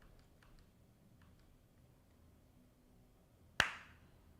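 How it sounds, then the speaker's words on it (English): A single sharp hand clap, made as a sync mark for video editing, stands out loud and close after several seconds of quiet room tone. "sometimes I'll give a little bit of a clap"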